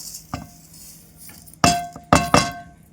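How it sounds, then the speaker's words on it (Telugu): Sugar tipped from a bowl onto grated coconut for a sweet, heard as a few sharp clinks of a bowl against a dish, one soft tap first and then a cluster of three louder knocks close by. "నేను వేసుకున్న కొబ్బరి తురుముకి అదే బౌల్ తోటి షుగర్ వేసేస్తున్నాను"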